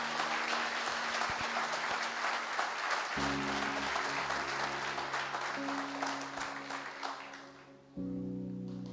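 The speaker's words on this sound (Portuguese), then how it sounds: "Esse é o momento de você aplaudir." A crowd applauds loudly and steadily throughout, while sustained keyboard chords play softly beneath the clapping.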